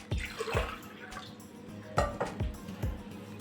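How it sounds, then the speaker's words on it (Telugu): Water poured from a soda glass into a bowl, with short splashy pours and clinks of glass against the dish, a few distinct bursts near and fairly quiet. "వాటర్ పోస్తున్నాను. గ్లాస్తో గ్లాస్ పోసాను, సోడా గ్లాస్ ఇది."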